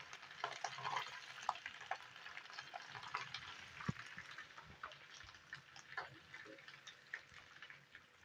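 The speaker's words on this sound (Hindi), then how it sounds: "अच्छे से चम्मच हिलाएंगे और 2 मिनट के लिए इसको फ्राई कर लेंगे" Ginger garlic paste frying with onions sizzles faintly while a spoon stirs it, giving soft scraping and tapping clicks in an irregular rhythm over a low hiss.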